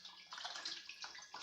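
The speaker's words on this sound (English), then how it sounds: "make sure you wash the fish well" Fresh Lake Victoria tilapia is rinsed under running tap water, a steady, hissing splash with slight gurgles, close but faint, with no talking.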